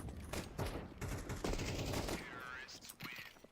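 Pistol gunfire in Counter-Strike 2 during a competitive match, rapid clusters of sharp shots mixed with game sounds, heard under an excited commentator's talk.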